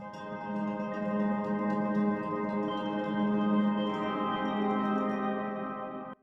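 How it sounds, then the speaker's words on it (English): A sustained, harmonically rich chord pad from the Kithara pensive preset in Kontakt 8's Leap expansion swells and holds steadily, shifting chords partway through before cutting off abruptly, with no voices. "This is the pensive preset from Kithara."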